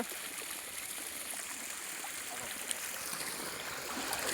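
Steady rushing of water flowing at a pond, a faint continuous wash with no voices.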